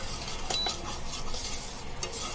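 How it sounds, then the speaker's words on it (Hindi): Spices stirred briskly into cornflakes chivda in a hot pan, a close scraping and rustling with a light sizzle running steadily underneath, no voices. "अभी ये सब मसाले डालेंगे, फटाफट हिलाएंगे।"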